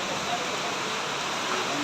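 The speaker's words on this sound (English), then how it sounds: "It's raining and raining." Heavy rain pours down steadily during flooding, a dense, even rushing wash of water that stays close and loud throughout with no pauses.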